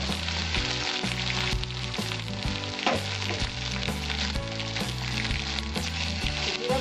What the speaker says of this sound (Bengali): এবার আমি পেঁয়াজ বাটাটা দিয়ে দিচ্ছি।